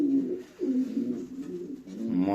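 Gaditano pouter pigeons coo nearby in a few low, rolling, throaty phrases, with soft breathy swells between them and nothing else heard.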